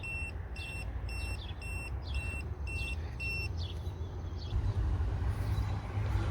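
Rapid high-pitched electronic beeps from a non-contact voltage detector held near a live exterior light fixture wire, in a regular pulsing rhythm over a low rumbling background, then the beeping stops and only the rumble remains.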